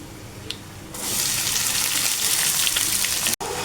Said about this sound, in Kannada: ಈಗ ಈರುಳ್ಳಿನೇ ಆ್ಯಡ್ ಮಾಡ್ತಾಯಿದ್ದೀನಿ